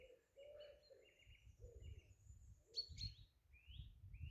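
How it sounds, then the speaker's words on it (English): Robin singing from a tree branch on a sunny spring morning, faint varied chirps and short warbled phrases repeating at a distance over low rumbling background. "Robin up in a branch."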